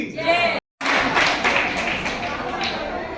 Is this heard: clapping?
yes